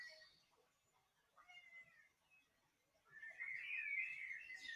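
A house cat meows softly during a calm morning body-and-mind routine, a couple of faint mewing calls, the second rising louder and longer, in a quiet room with no talking.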